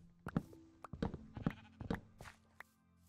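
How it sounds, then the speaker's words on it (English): A sheep in the video game Minecraft bleats several times in short, quiet, separate calls spread across a few seconds, with faint clicks between them. "Oh, and there's a sheep."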